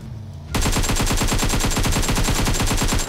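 An AKM rifle in PUBG Mobile opens up in full-auto after a half-second lull, its shots cracking in a steady, loud, close stream of evenly spaced bursts to the end.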